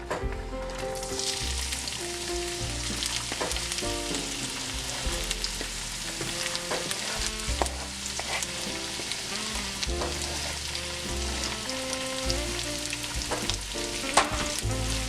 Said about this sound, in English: I'm gonna put in the pan 1/2 of a white onion, 1 chopped carrot, and 1 chopped stalk of celery